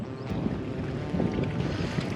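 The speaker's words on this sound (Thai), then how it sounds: "แต่ข้อเสียวันนี้มันมีลมนะครับ" Wind blows across an abandoned pond while someone fishes for giant snakehead from a boat. Steady, close buffeting rumble of wind against the microphone continues without a break, with no talk.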